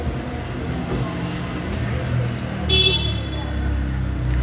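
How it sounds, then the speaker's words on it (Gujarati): Steady road traffic rumbles from the street below, a continuous low wash of passing vehicles with a brief high tonal horn-like toot near the middle, heard from an upper floor. "નીચે વાહનો આવજા કરે જ છે"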